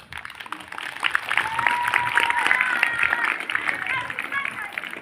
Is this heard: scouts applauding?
yes